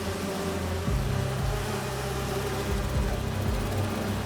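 Holographic bee wolves buzzing in Marvel's Spider-Man 2, a steady droning hum with a few rising whines over dense game background noise, no talk.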